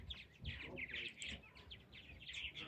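A busy colony of purple martins calls continuously, overlapping gurgling chirps and warbles close by, with a soft murmur of background noise underneath.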